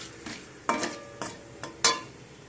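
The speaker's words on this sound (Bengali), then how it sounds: "দিয়ে সব কিছুকে একটু ভালো করে নাড়াচাড়া করে ভেজে নেব।" Dry red chilli, panch phoron and cumin frying in a pan, a soft low sizzle broken by about five short stirring scrapes and clinks of a spoon against the pan.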